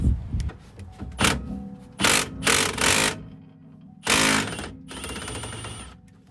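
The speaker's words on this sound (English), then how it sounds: "you gotta hit them with a mallet or a hammer to get them to pop off" Hammer striking a stuck brake rotor on a Ram 1500 pickup during a brake job, loud metallic impacts in irregular bursts, some single hits and some rapid clusters, close up with a ringing tail between blows.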